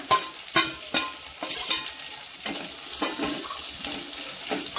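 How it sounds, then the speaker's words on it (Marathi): Capsicum and onion sautéing in a hot pan for chicken chilli, a steady close sizzle broken by repeated stirring scrapes and clatters of a spatula against the pan, with no talking. "आता आपण तळलेला ढोबळी आणि कांदा आहे तो थोडासा परतून घ्यायचा"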